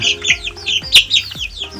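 Several chickens cluck and chirp in a cage on a small meat-chicken farm, a run of short close calls in uneven bursts with one sharper squawk near the middle.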